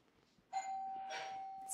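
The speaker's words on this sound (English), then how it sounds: "So ring the doorbell." A doorbell rings once with a clear, sustained electronic chime in an otherwise quiet room.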